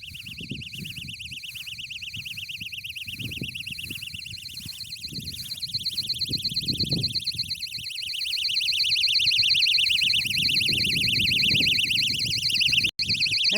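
Locator alarm on a disc golf basket set up for players with visual impairments, sounding outdoors as a loud, steady warbling electronic tone that runs through the whole stretch, with low wind and handling rumble beneath it.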